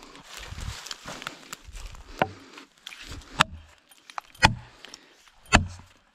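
Wedge being driven into a tree's hinge cut during felling, a series of sharp, separate strikes spaced about a second apart, close and fairly loud, with quiet gaps between them.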